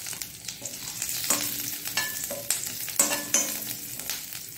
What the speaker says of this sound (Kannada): ಕರಿಬೇವಿನ ಸೊಪ್ಪು ಹಾಕೊಳ್ಳೋಣ.